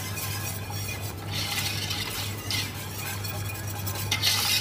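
A whisk stirs lentils around a pot, a steady scraping swish with faint clinks against the metal, close and continuous with no talking.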